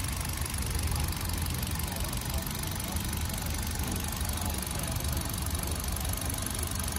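A 2018 Kia Morning S with a four-cylinder engine idles smoothly nearby, giving a steady, even hum without breaks.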